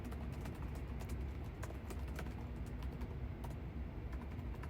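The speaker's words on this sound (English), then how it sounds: "Type in my password and we'll get going here." A password being typed on a computer keyboard, quiet rapid key taps in an irregular run over a steady background hum.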